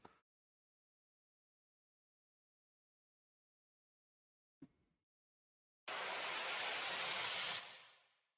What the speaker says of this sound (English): There's some more reverse white noise sounds.